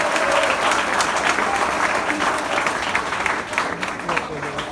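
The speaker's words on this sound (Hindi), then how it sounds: "जोरदार ताली बजा दो।" Loud, enthusiastic crowd applause during a comedy show for freshers at Agarwal College, strong at first and easing slightly toward the end, with voices and crowd noise mixed in.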